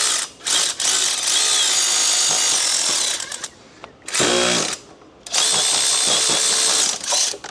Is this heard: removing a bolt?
yes